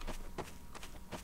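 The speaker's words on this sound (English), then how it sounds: "I hear footsteps." Footsteps in a video game, a few distinct thudding steps spaced unevenly, fairly close and clear with no talk over them.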